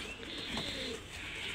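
Damascene pigeons at a bird sale coo steadily, with soft repeated low calls close by over a continuous bed of chatter and bird noise, with no clear speech.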